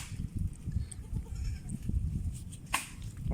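Young goats with their mothers give several short bleats, some near and some farther off, over a low rumbling outdoor background near the sea, with no speech.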